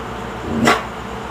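A pet dog gives one short, sharp bark on command during a trick-training session at home, close and fairly loud against a quiet room.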